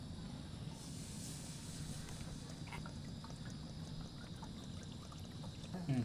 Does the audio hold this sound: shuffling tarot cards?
no